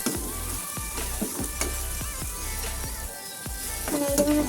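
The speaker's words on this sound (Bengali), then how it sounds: "1/2 চামচ লবণ, 1/2 চামচ হলুদের গুঁড়ো দিয়ে মশলাগুলোকে একটু কষে নেব।" Salt and turmeric-coated spices frying in a pan for an egg shawarma, a steady close sizzle with repeated stirring scrapes and no talking.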